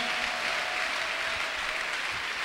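Congregation in a church clapping and applauding, a dense, even wash of hands at steady loudness across the whole moment, with no speech over it.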